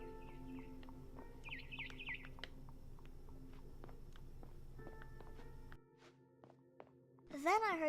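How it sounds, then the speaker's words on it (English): Chirps from a barn swallow outside a window in the video game What Remains of Edith Finch: soft tones over a busy background early on, then a louder burst of rising, sweeping calls near the end. "Then I heard chirping outside my window."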